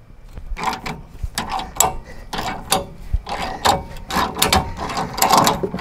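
Ratchet wrench working bolts on a 1967 VW Bus: rapid bursts of sharp metallic clicking, irregular strokes with short pauses between, close and fairly loud, with no talk.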